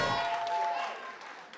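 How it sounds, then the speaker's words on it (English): A pageant audience applauds the delegates with a burst of clapping that fades quickly over a second or so, heard from within the hall. "let's give them a round of applause for their efforts throughout the competition"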